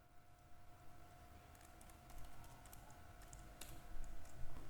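Someone types a spreadsheet formula on a computer keyboard, a steady stream of quiet, close key taps with brief pauses, over a faint background hum.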